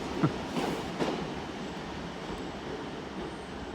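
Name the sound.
single Class 150 train passing at Exeter St Davids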